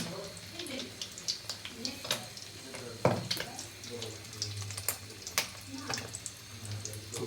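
An egg fries in a pan of oil, with faint crackles and sharp splattering pops scattered irregularly beneath someone talking nearby.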